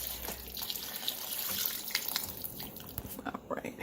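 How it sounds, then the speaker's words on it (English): Water runs into a pot of homemade beef and vegetable soup with broth, a continuous splashing fill with scattered clinks and sputters, fairly soft and steady throughout. "we're gonna finish adding water till we get it all the way up to the very top"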